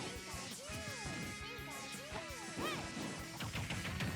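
Up smash attacks land in a Super Smash Bros tournament match, with sharp crashing impacts and swooping effects over steady game sound.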